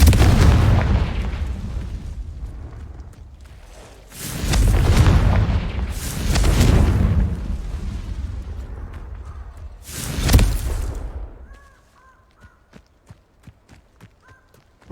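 Confringo fire spells explode in the video game Hogwarts Legacy on PC, giving three loud booms over a rumbling background, followed by quiet, evenly spaced footsteps.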